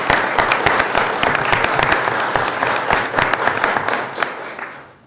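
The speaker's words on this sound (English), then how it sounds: "Let's give her a round of applause." An audience at a legislation event in Albany applauds Sarah Weddington, a dense, lively crowd clapping that stays strong and then fades away at the end.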